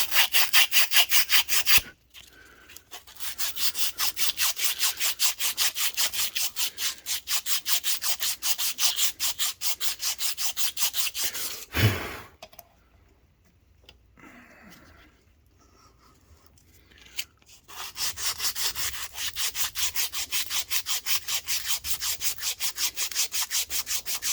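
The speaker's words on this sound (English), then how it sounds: "go ahead and sand down the back of the shaft there" Sanding the back of a crankshaft behind the pulley on a Kohler Command Pro 20 HP engine, a close, rapid back-and-forth abrasive rasping in long steady bursts, broken by a knock and a quieter pause.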